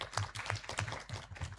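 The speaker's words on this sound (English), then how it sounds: "let's give applause for both teams" Audience applause for two competing teams at a competition event, a short burst of clapping with some low rumble and faint voices mixed in.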